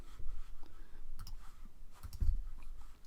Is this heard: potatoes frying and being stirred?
no